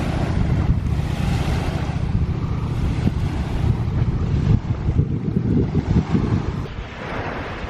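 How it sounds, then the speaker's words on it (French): Wind blowing outdoors on a sunny, fresh day on the road to Hachinohe, a loud continuous rushing gust buffeting the microphone with surging swells and no voices. "Alors il y a un peu de vent, hein."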